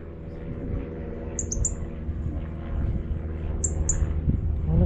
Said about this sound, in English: Look at a bird.